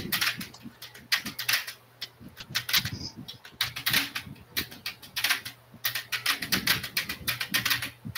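Loud, rapid mechanical keyboard typing during a GTA Online casino heist session, bursts of clacking keystrokes in an uneven rhythm, close to the microphone and steady throughout.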